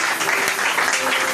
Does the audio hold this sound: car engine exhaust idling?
no